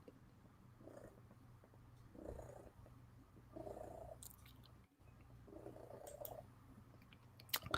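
A cat purrs close up in rhythmic, low rumbling pulses, fairly quiet, with a few faint clicks and a sharper knock near the end.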